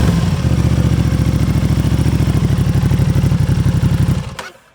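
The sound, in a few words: Aprilia Tuono 660 motorcycle eBay exhaust revving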